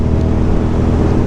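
A vehicle cruising on Route 97 south toward Port Jervis, with rain in the air: a loud, steady low engine and road rumble that stays constant with no change in pace and no voices.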